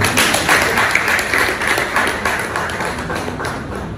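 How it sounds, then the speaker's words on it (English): An audience applauds with dense, continuous clapping that stays loud throughout, tapering slightly toward the end. "So please, applaud for management."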